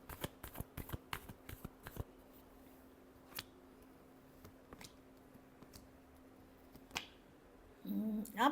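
Tarot cards are shuffled close up in a quick burst of crisp riffling snaps, followed by a few scattered soft taps in a quiet room and a brief rustle at the end.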